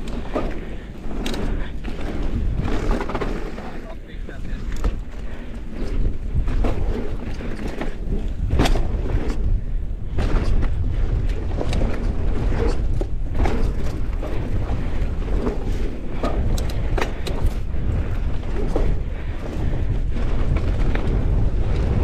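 Wind buffets the microphone during a mountain bike ride, a loud, continuous low rumble with rattling bumps from the trail throughout.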